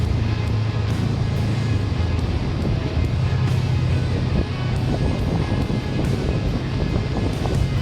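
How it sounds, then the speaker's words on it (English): Honda Rebel 500 motorcycle with 10-inch ape hangers, its engine revving high in too low a gear while riding, a steady loud drone buried in heavy wind rush with slight shifts in pitch. "I think I'm in too low gear. It sounded like it was revving high."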